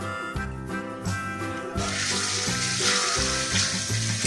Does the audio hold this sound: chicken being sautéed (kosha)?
yes